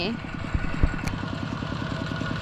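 A tractor engine idles close by with a steady, rhythmic chugging, low and continuous throughout, with a brief sharp knock partway through.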